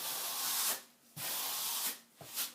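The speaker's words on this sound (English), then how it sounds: "you want to try to scrape away as much as possible off the tile" Grout being scraped across floor tile in long, steady rasping strokes, three passes with short pauses between, fairly close and moderately loud, no talking.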